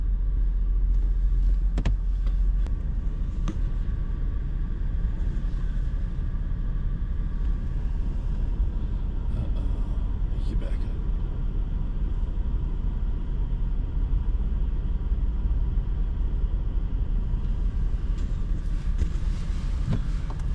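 A car fitted with tire chains drives up a snowy slope, its engine rumbling low and constant for a long stretch amid wind noise, with occasional clinks and knocks.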